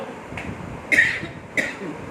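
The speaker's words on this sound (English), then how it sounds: "I hope my natural cough is not disturbing your visual senses." Two or three short, soft coughs spaced about half a second apart, close by and quiet, with no talking between them.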